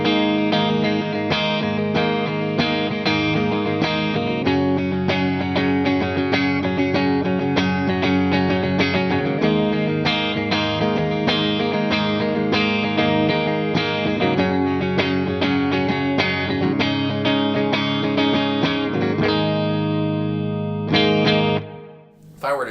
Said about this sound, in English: Just going back to that dry, clean sound without any chorus, but still using the compressor.